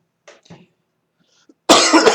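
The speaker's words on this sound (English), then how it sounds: "Get the coughing fits." A brief burst of harsh coughing close by, loud and abrupt after a near-silent stretch with a few faint vocal sounds.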